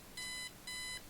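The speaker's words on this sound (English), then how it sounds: "Eileen's obnoxious alarm clock" An obnoxious electronic alarm clock in the adventure game Kathy Rain, two identical bright beeping bursts in a quick repeating pattern, clear and alone.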